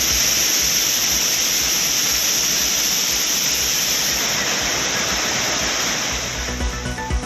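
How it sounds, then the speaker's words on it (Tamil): Flooded Courtallam waterfalls pour with a steady, loud, broadband roar, the rushing water continuous and close for the whole stretch, with no voices over it. "குற்றால அருவிகளில் ஆர்ப்பரித்து கொட்டும் வெள்ளத்தால் குளிக்க தடை."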